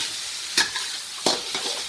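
Rice stir-fried in a thin steel wok: a steady sizzle broken by two or three sharp scraping tosses of the spatula.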